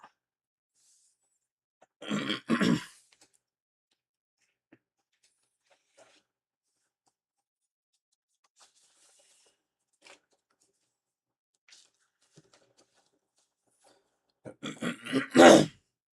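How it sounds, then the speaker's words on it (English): Two short, raspy throat-clearing bursts, one near the start and one near the end, separated by quiet with faint rustles. "Let me clear my throat"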